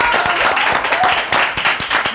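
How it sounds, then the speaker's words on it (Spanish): A studio audience at a comedy show applauds the show's guests, a dense burst of clapping that stays fairly loud and close from start to finish. "Un fuerte aplauso para ellos."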